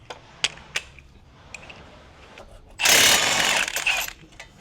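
An impact wrench on a 22 mm caliper bolt of a G35/G37 front brake gives one loud, dense rattling burst lasting about a second, preceded by scattered metallic clicks and clanks of tools.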